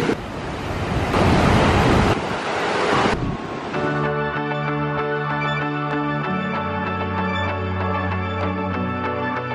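Heavy rushing water of the Niagara River close to the falls, a loud broadband roar that dominates the first four seconds, then gives way to a tonal mechanical drone with the water fainter beneath.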